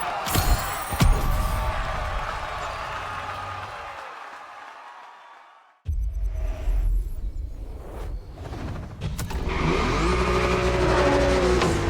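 A car drifts in the racing game The Crew Motorfest: the engine revs hard and tires squeal. The sound cuts out briefly, then surges back into a sustained, loud roar, with no talking.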